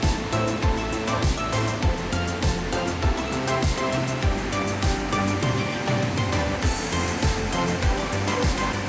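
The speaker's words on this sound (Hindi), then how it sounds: "काफी फैला हुआ वाटरफॉल है।" A wide waterfall at Cherrapunji roars close by, a loud, dense, unbroken rush of falling water that fills the whole stretch.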